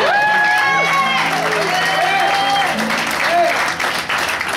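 A church worship service audience applauds amid cheering and voices, dense and loud, with people shouting and talking over the clapping.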